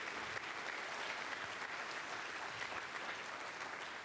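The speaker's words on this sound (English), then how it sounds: "let's give another round of applause for our student performer" An audience claps for a student performer at an evening school event, a continuous even wash of many hands at steady loudness with no speech on top.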